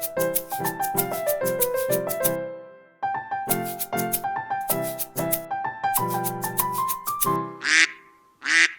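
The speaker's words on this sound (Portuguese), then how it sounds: "É o pato! Quá, quá." A bright, bouncy musical jingle of plucked notes plays for several seconds, then gives way to two close duck quacks at the very end.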